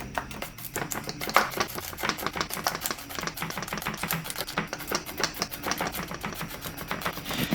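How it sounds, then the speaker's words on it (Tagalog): A knife slicing peeled garlic cloves thinly on a cutting board, quick, steady, close tapping chops in a fast, even rhythm, with no talking. "Maghiwa lang tayo dito ng ating bawang. Pipitin lang natin yan. Balatan. Tapos, hiwain natin ng medyo maninipis lang."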